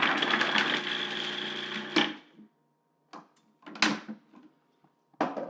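A food processor runs briefly to chop garlic, a buzzing whir with rattling blades that stops after about two seconds, followed by a few short clunks and knocks of the machine.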